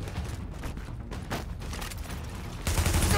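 Gunfire in the video game The Division, a dense rattle of shots over a loud, busy combat backdrop, growing heavier toward the end.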